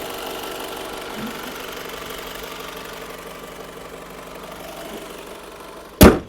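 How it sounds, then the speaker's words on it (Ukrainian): A Honda CR-V engine idles smoothly and evenly, a steady mid-pitched hum with faint mechanical ticking running throughout, ending in a sudden loud thump at the very end. "Мотор працює рівно, підтікань мастил немає."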